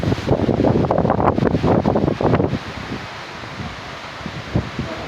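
Storm wind roars loudly and gusts for a couple of seconds, then drops to a softer steady rush with scattered rustles, close to the microphone and without talk.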